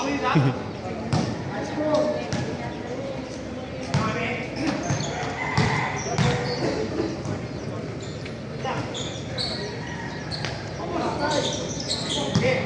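A basketball is dribbled on an indoor court during a game, its bounces thumping under constant excited commentary and crowd noise.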